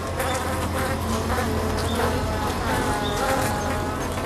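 A dense mass of honeybees vibrating their wing muscles to heat a trapped wasp buzzes continuously, a steady close droning hum with no voices.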